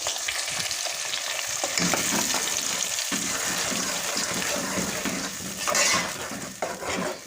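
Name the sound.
onion and tomato paste frying in pan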